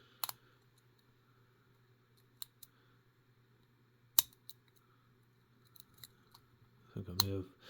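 Picking a Master Lock 130 padlock: sparse sharp metallic clicks and ticks spread across the clip, close and quiet over a faint steady hum, ending with a louder cluster of rattling clicks.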